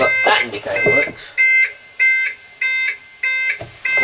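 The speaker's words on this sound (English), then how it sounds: "But we do have the panic alarm that's been fitted to it." A panic alarm fitted to a service vehicle sounds in loud, regular electronic beeps, five evenly spaced bursts after a person speaks briefly at the start.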